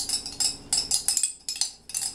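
A metal spoon stirs citric acid into warm water inside a small glass jar, giving quick, rhythmic clinks and scrapes against the glass, close and fairly bright, with no talking.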